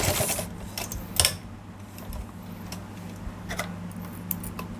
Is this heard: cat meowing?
no